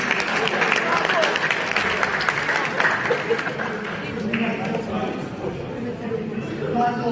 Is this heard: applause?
yes